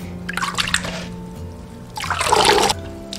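Seaweed being rinsed by hand in a basin of water, two bursts of splashing and sloshing separated by a quiet pause, close up, with a faint low hum underneath.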